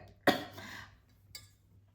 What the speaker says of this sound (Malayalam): ചുമ വരുന്നത്